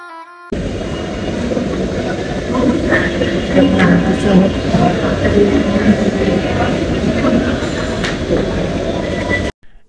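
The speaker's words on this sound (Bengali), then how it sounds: "আমরা মেট্রো করে আবার মিরপুর 10-এ চলে আসলাম।" Dhaka metro rail train running, a steady loud rumble of wheels and carriage noise that fills the whole clip, with faint rattles and clicks over it.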